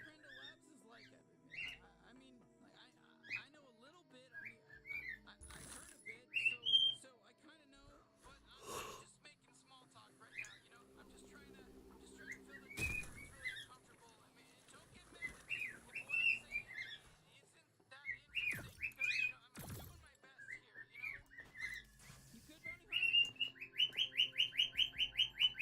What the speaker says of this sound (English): Sometimes I don't know when my birds get really loud.